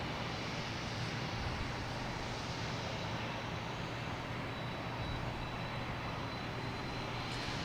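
An airplane at Boston Logan Airport, its engine noise a loud, continuous broadband roar held steady from start to end without voices.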